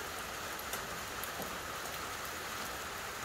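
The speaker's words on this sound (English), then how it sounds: "standing here in the rain" Steady, dense rain drums on the tin roof of an off-grid tiny cabin, a close, constant hiss of drops with no voices.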